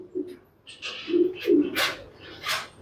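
Pigeons coo close by in Tonk, giving a few low throaty calls in a loose rhythm, with brief hissy voice-like sounds in between.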